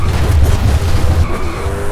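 Koenigsegg Jesko in Forza Horizon 5 braking hard from about 430 km/h, a loud continuous skid and engine roar that eases after a second, with no voices.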